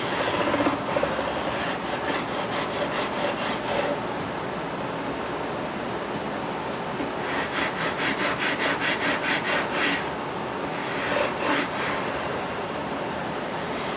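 A sanding block rubs back and forth over guitar frets during levelling and polishing, two long runs of steady rhythmic rasping strokes, close and fairly loud, with brief pauses between passes.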